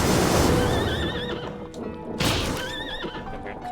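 Two drawn-out horse whinnies ring out loud and close in a Bloodstained: Ritual of the Night game scene, each with a wavering, quavering pitch, set over a dense, steady wash of background noise.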